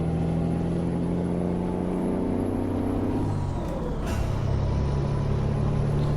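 A heavy truck engine in Euro Truck Simulator 2 drones steadily at high revs, with a brief hissing burst partway through.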